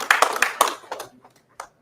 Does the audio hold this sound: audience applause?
yes